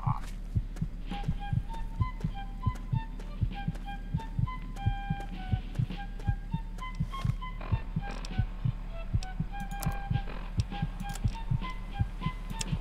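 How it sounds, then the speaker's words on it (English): A looping heartbeat effect from the video game Fallout 3 thumps steadily in double beats throughout, mixed with a low hum and faint tonal music notes, with no talking over it. "I hate the freaking heartbeat."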